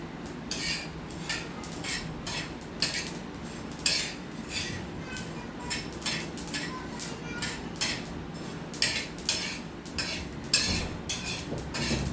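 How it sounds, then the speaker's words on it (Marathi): Niger seeds roasting in a metal pan, with a spoon scraping and clinking against the pan in irregular, fairly quiet strokes throughout and no talking. "आता हे कारळे मी भाजत आहे. हे भाजायला लागले आहेत."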